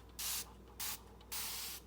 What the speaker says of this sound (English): It's great to spray the top of your glass stoves with.